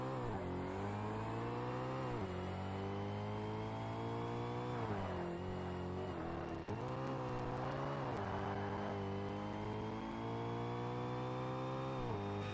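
A race car engine in the Forza Motorsport video game roars at the start of a race on the Rio track, revving loud and continuous, climbing in pitch with several gear shifts along the way.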